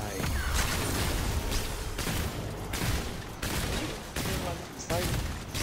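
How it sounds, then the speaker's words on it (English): Enemies firing at the player in the video game Remnant 2, with loud, dense gunfire bursting almost continuously and repeated sharp volleys layered over busy game sound. "See, they just shoot me."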